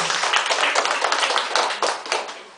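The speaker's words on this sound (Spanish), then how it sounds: "Un aplauso para la mamá de la cumpleañera." Guests at a birthday party and Christmas celebration clap together for the birthday girl's mother, a lively burst of many hands close by with faint voices underneath.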